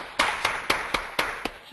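Six sharp hand claps from a single person, evenly spaced about a quarter second apart, fairly close and clear with no talking.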